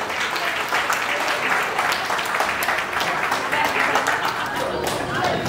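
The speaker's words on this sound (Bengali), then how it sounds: "একবার জোরে হাততালি হয়ে যাক এদের জন্য।" An audience applauds at a live Bengali New Year stage show, a continuous dense wash of many hands clapping, steady and fairly loud throughout without a break.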